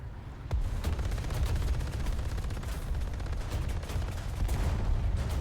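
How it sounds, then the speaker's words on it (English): Continuous gunfire in a video game, a steady dense crackle of distant rapid shots and bursts running throughout at moderate loudness, with no voices. "There's a lot of gunfire."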